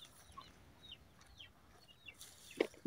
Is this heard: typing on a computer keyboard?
no